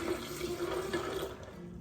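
Running water splashes steadily into a kitchen sink as a measuring cup is rinsed out, a continuous close stream with a strong hum-like tone underneath, no talking.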